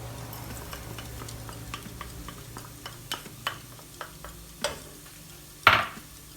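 Bulgur and rice being stirred in a pot for lentil soup, a spoon scraping and tapping in an irregular rhythm over a faint sizzle, ending with a louder clank against the pot.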